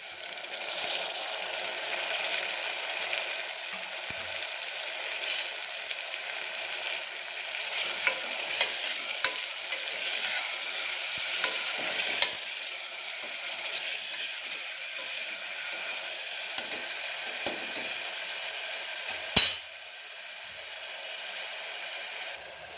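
Tomatoes fry in a pan for a spinach dish, giving a loud, continuous sizzling hiss with a few clicks and one sharp knock near the end, no talking.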